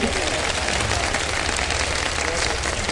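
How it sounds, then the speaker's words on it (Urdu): Brief burst of audience applause in a quiz segment, a thick continuous wash of clapping that stays loud and even for about three seconds. "ان کے لیے تالیاں"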